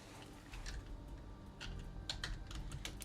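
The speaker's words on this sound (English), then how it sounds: "We'll type in Shari" Name typed on a computer keyboard, a quick run of light close clicks and taps, faint and uneven in rhythm, with no talking over it.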